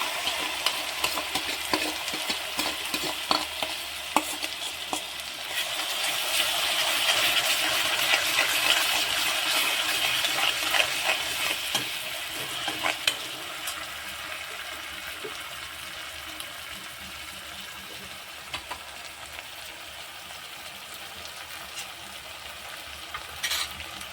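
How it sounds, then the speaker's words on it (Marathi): Ground masala paste frying in oil for a prawn masala gravy, a broad steady sizzle with a swelling hiss midway and faint stirring clicks, close and continuous without talk. "मिश्रण आपलं चांगलं तेलामध्ये फ्राय झालेलं आहे"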